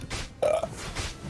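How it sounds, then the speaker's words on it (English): One loud, close burp from a person, a short guttural belch bursting out midway and then trailing off, with faint background noise around it. "I need to burp."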